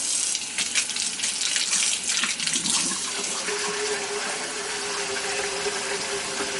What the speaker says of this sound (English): now I'm going to mix it with the warm water. Mixes up real good, real easy. Now add the cold water